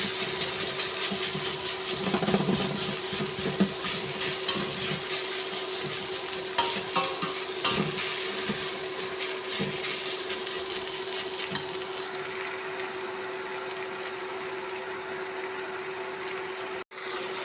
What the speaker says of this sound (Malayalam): നന്നായി മസാലയെല്ലാം നന്നായി മിക്സ് ചെയ്തെടുക്കാം.